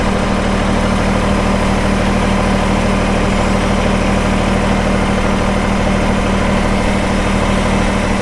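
A backhoe engine idles steadily and loudly close by, a constant low rumbling drone with an even pulse and no pauses or changes in pitch.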